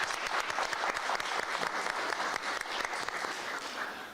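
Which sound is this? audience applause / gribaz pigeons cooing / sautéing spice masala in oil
audience applause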